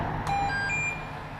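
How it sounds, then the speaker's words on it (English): A few short, high electronic beeps in quick succession from a scooter controller entering programming mode, over a low steady background hum. "It beeps and turns the lights on to tell me it's in programming mode."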